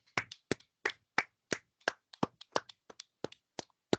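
Hands clap in a quick, uneven series of about a dozen sharp, close claps, quiet overall and with no talk.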